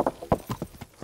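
Horse hooves clip-clopping in the medieval video game Kingdom Come: Deliverance, a run of about six evenly spaced, fairly close hoof strikes at a walking rhythm, with no talk over them.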